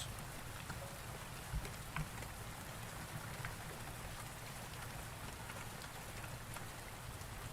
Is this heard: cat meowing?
no